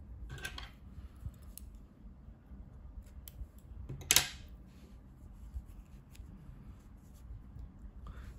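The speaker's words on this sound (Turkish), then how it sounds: "İpliği kesiyorum." Scissors snip through yarn after a crocheted daisy flower is finished, with a couple of crisp, close cuts, one notably louder, standing out against a quiet background of faint handling noise.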